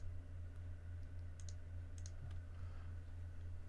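A computer mouse clicking faintly during work in cutting-nesting software, a few light clicks around the middle over a steady low electrical hum.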